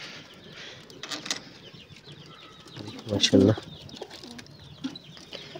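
Pigeons coo in a home loft near a keeper, soft low throaty coos with a louder burst of cooing and some wing flutter midway, while someone speaks briefly nearby.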